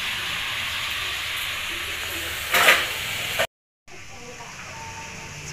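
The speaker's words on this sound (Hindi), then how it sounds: "ये देखिए खाने में कुंदरू फ्राई हो रहा है" Ivy gourd (kundru) frying in a pan gives a steady sizzle and hiss, briefly louder midway, then breaks off and resumes more faintly as a voice talks over it.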